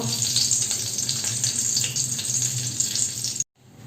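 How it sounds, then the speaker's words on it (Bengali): A bay leaf and two green chillies frying in hot oil in a wok, a steady loud sizzle and hiss that cuts off abruptly near the end, with no talking. "তেজপাতা এবং লঙ্কা ভাজা ভাজা হয়ে গেছে"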